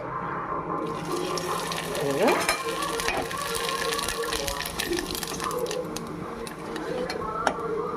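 Sago (saggubiyyam) vadiyalu fry in hot oil with a moderate bubbling sizzle and occasional stirring sounds. A person talks over the cooking.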